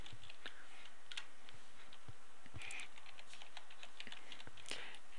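Someone types a user ID and password on a computer keyboard, producing a steady run of close, crisp key clicks at an uneven pace, with no voices.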